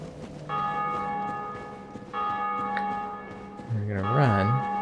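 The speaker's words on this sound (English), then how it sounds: "there's everyone's ringing that bell" A bell rings repeatedly in the Dark Souls video game in Lordran, sustained metallic tones swelling in two long waves, with a voice-like warbling sound joining near the end.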